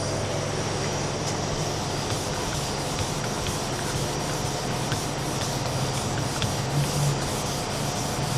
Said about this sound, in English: knock down the orange peel with this flat block with some 1000 grit by hand